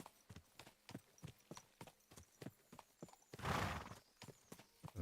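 Steady clip-clop of horse hooves at a trotting rhythm, with a brief whinny or rushing burst midway, fairly quiet overall.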